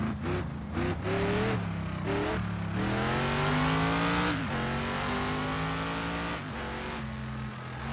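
Mercedes AMG engine in the racing game Project CARS 2, revving up through rising gear pulls with brief drops at shifts, loud and continuous.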